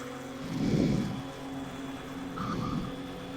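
A video game car engine revs up twice in swelling bursts over a steady engine hum, with a brief high whine near the end.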